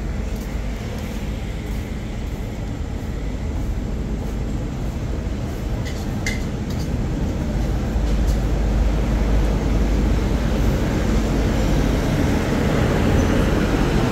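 Express train 85 pulling out of Ban Pong station in Thailand, a loud steady low rumble of rail cars and engine that swells slightly toward the end, with a brief high squeal partway through.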